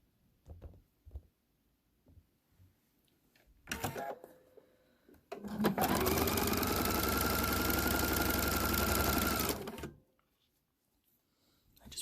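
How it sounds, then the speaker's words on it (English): A sewing machine runs in a steady, rapid mechanical whir for about four seconds while stitching a quarter-inch seam in quilt fabric, preceded by a few clicks and handling noises, then stops. "Take them over to your sewing machine and you'll just sew a 1/4 inch all the way down"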